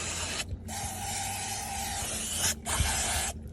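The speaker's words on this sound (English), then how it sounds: "One last spray with the old cleaners just to make sure there's no oil on nothing" Aerosol cleaner sprayed beneath a Vauxhall Astra K during an oil change: two close, steady hissing bursts, the first about two seconds long and the second shorter, with brief pauses between them.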